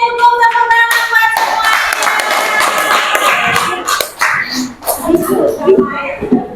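A classroom of children claps for everyone after the teacher calls for it, with scattered hand claps and shuffling mixed among kids' voices and chatter throughout.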